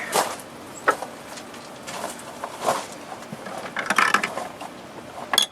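Ratchet wrench tightening a 10 mm ground wire bolt on a 2011 Nissan Altima 2.5 SL engine during valve cover work, a series of irregular light clicks and metallic ratcheting, fairly close, with no talk.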